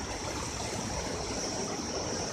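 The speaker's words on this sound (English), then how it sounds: "across the river in a quiet, peaceful area right under the lush green forest and by the river" Steady rush of a river flowing beside lush green forest near a village on the Ghandruk trek in Nepal, a continuous broadband roar with no talk.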